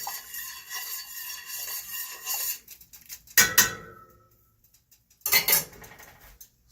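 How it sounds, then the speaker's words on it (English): Mango wine must stirred in a container, with a few scraping and clinking passes of a utensil against the sides: a long rubbing stretch, then two sharp, louder bursts separated by a short quiet gap. No talking. "Go ahead and stir that in."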